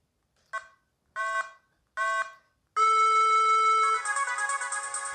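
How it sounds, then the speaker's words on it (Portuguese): Short synthesized chiming phrases from a rare Ferrari video game play in three brief bursts, then settle into a sustained electronic melody with bright beeping tones, clean and up close with no talking. "Musiquinha totalmente relaxante."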